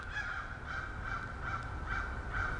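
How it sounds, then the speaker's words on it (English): Recorded crow calls played back outdoors to drive crows away: a run of repeated harsh caws about every half second, fairly faint over a steady background hiss. "So I'm trying to get the crows away. And I'm playing this crow sound."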